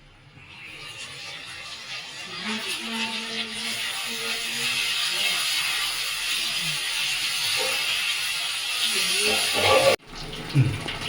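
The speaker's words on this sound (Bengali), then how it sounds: "এবারে ঢালছি জল কিছুটা হালকার মতন জল ধরে দিলাম" A steady rush of water pouring continuously into a cooking pan of sukto, a Bengali vegetable dish, loud and close, ending with a brief clatter near the end.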